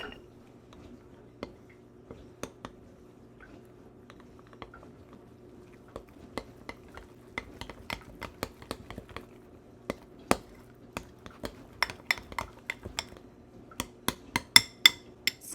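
A spoon stirs a flour mixture in a bowl for squishy bags, making sparse, faint taps and clicks that come closer together and louder toward the end, with no voices.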